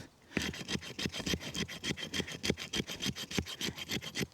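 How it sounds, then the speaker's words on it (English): A sharp knife blade scraping wood outdoors, about a dozen quick rasping strokes in a steady back-and-forth rhythm, close and fairly quiet with no voices. "Certainly it's sharp enough to do the scraping"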